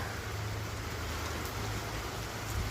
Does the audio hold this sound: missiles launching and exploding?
no